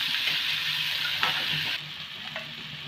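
Chopped onion sizzles steadily in hot oil in a pan, with light scraping and clinking as it is stirred; the frying hiss stays constant and close throughout, with no talking.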